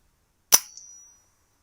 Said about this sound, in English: So I decide to take the shot, and the first shot